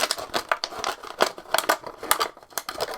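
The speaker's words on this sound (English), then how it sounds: "Now I'm gonna finish it with scissors." Scissors snip repeatedly through material while shaping a Key West-style spinning buoy, a quick steady run of close, crisp cuts with crinkling texture and no talk.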